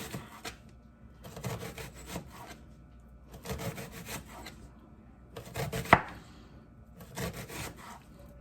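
A knife thinly slicing ingredients for steak sandwiches on a cutting board, heard as five bursts of steady rhythmic cutting strokes with pauses between them and one sharp knock near the end, close and alone.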